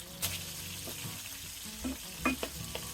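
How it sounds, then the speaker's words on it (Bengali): Tengra fish turning over in hot frying oil: a constant close sizzle with a handful of sharp scrapes and clinks from the spatula, the loudest near the start and around the middle, no speech. "এভাবে উল্টে পাল্টে সবগুলো মাছ আমি ভেজে নেব।"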